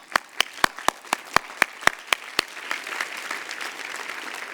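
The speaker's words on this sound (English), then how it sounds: "Give yourself a round of applause," A graduation audience at a Johns Hopkins University commencement breaks into applause, beginning with about ten sharp, evenly spaced claps before swelling into dense, sustained clapping from the crowd.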